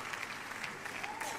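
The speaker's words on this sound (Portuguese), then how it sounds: "Uma salva de palmas para a Vitória e uma salva de palmas para mim." Steady applause from an audience at the Golden Globes ceremony, a dense, continuous clatter of clapping hands heard at a distance and fairly faint.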